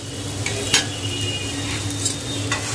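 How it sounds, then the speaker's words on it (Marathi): Bread pakoras frying in oil in a pan, a continuous hissing sizzle with a few faint clinks or stirs scattered through, close and moderately loud. "आणि क्रिस्पी होईपर्यंत आपल्याला याला फ्राय करायचे."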